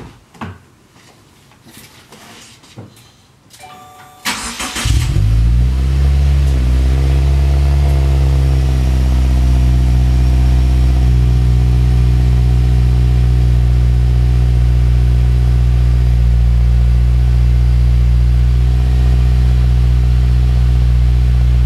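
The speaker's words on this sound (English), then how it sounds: "So first off, here's the WRX startup." 2015 Subaru WRX STi with a catback exhaust starting up after a few seconds of quiet handling noises, catching with a loud rev and then settling into a deep, steady, close idle that runs on alone.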